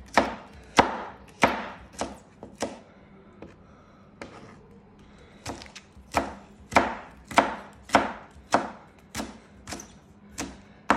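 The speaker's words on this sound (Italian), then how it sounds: "tagliuzziamo i carciofi." A knife chops artichokes steadily on a cutting board, sharp close knocks in quick bursts with a short pause in the middle.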